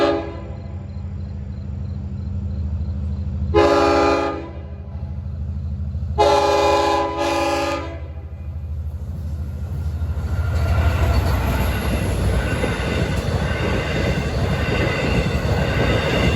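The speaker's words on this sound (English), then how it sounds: "The last westbound train out of Montauk is approaching." A westbound Montauk-to-Jamaica passenger train passes through Brightwaters on an evening run. Two loud horn blasts sound, the second a doubled toot, followed by a swelling rumble and wheel noise as the cars roll by close.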